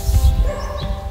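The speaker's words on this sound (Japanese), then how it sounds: "めっちゃ犬鳴いてる。" A dog barks loudly and close by at a sunny February campground in Futtsu, Chiba, Japan. It is one brief burst of barking over low outdoor rumble.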